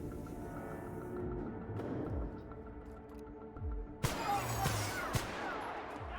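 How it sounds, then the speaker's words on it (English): Pistol shots in the video game The Outer Worlds: a few sharp separate reports, the loudest bursts near the end, over a low game ambience with whooshing tones. "let's see what this pistol can do"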